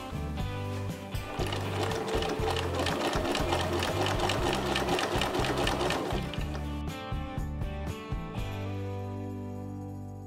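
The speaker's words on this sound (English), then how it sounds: "I'm using a zigzag stitch for these straps." Sewing machine running a zigzag stitch on denim straps cut from repurposed jeans, a close, loud, steady mechanical chatter for about seven seconds before slowing and stopping.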